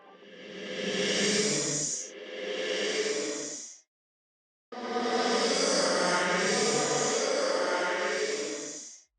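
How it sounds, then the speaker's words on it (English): Reverse reverb on a vocal gives a ghostly effect, airy hissing washes that swell upward and cut off abruptly, two short swells, a brief silence, then a longer one. "So it sounds kind of like a ghost effect"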